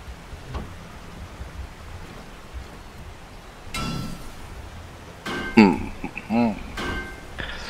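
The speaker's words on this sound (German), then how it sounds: "Ist ein scheiß Wetter, oder? Ja, regnet. Und laut ist es." Rain falling in a 7 Days to Die game world, a steady hiss throughout, with a short burst of louder noise near the middle that may be thunder; a voice speaks briefly toward the end.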